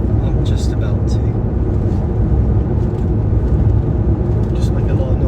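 An older car with its window open drives along with loud, constant road and wind rumble pouring in, a steady roar with no pauses.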